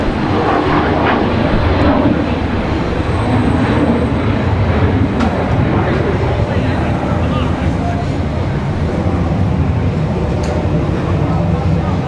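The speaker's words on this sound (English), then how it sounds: "ITA back to Rome, that A330-200. Getting ready to roll here." An ITA Airways Airbus A330-200 bound for Rome begins its takeoff roll at Washington Dulles, a loud continuous engine roar filling the scene with a steady broadband rumble, people talking faintly underneath.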